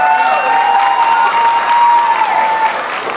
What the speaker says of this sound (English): Let's give a round of applause to Gas for another shocking performance.